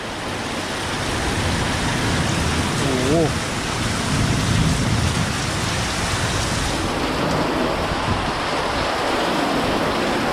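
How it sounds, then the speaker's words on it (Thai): Hailstones pelt down in a summer hailstorm over a backyard and rain gutter, a dense, steady roaring patter that fills the whole stretch, with a voice briefly audible underneath. "นี่ยังนี่เสียงลูกเห็บตกอยู่นะครับนี่"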